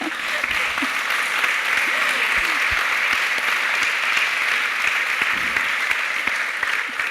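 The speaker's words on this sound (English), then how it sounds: "See, you're all clapping" An audience applauds steadily and fairly loudly throughout, a dense wash of clapping with a few faint voices underneath.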